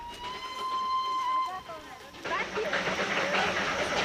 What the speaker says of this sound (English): 18 little locomotives run back and forth on the Darjeeling Himalayan line.